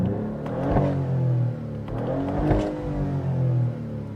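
Maserati GranCabrio Trofeo engine revving with the top down, two strong rev surges that climb and fall back to a steady idle, close and loud, with no talk over them.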